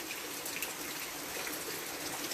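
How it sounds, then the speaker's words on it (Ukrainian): Rain falls steadily on a small village garden and flower beds, an even soft hiss of drops with no voices. "Зараз дощик такий хороший йде."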